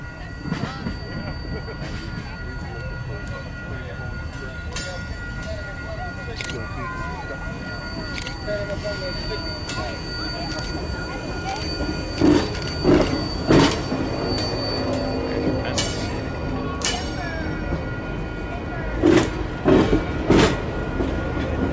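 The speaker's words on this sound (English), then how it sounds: "the Big Boy would have to get off the former SP line and make its way to the Mopac line" The Union Pacific Big Boy 4014 steam locomotive backs a long train from the former SP line onto the Mopac line, with a steady rumble of rolling cars, clanks and occasional sharp wheel squeals and bangs.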